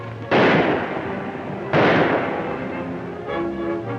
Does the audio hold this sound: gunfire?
yes